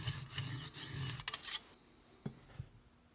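A knife being sharpened on an Arkansas stone in a Lansky guided kit: a few soft, close rasping strokes of steel across the stone, then quieter scrapes and a couple of faint taps as the motion stops.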